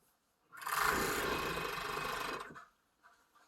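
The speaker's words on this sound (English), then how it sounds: "you can actually serge down the arm and armpit inside there" A serger stitching the arm and armpit seam of a knit cardigan runs in one steady, close whirring burst of about two seconds, then stops.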